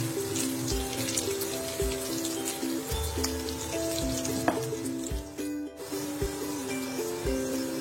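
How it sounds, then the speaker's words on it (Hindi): Dried red chillies fry with garlic in hot oil, giving a steady close sizzle with light clinks and stirring scrapes, alongside a tonal hum and a brief rush of noise near the end. "इन्हें भी लहसुन के साथ फ्राई कर लेंगे।"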